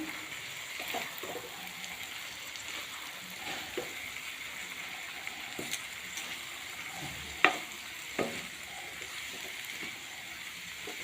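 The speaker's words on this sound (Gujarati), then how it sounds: "હવે આપણે લીલી ડુંગળી નાખી દઈશું હવે આપણે મિક્સ કરી લઈશું" Pea rice with green onions is stirred gently in a pan, a faint steady sizzle with soft scrapes and a few light taps of the spoon.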